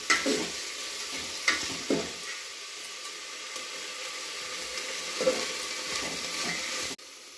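Sprouted horse gram frying and being stirred in a pan, a steady hiss of sizzling with scattered scraping strokes of a spatula, ending in a sudden drop in level.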